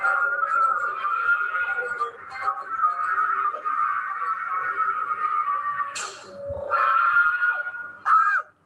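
Crowd of people screaming as a storytelling sound effect, a sustained high wailing chorus with a short pause and a sharp final burst, fairly loud and close.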